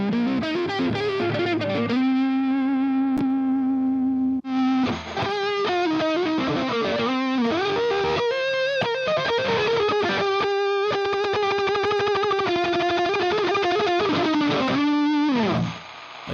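Super-distorted electric guitar played through effects, recording guitar loops: a loud, saturated, buzzing tone holds sustained notes, then moves through busy riffs and chords, heard alone without any talk.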